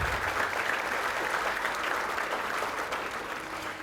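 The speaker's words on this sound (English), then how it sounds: "I think that deserves a round of applause." Sustained round of applause from a seated audience at the 24th Ethnic Business Awards gala presentation dinner, a dense steady clatter of many hands that holds evenly throughout and tapers only slightly at the end, with no voices over it.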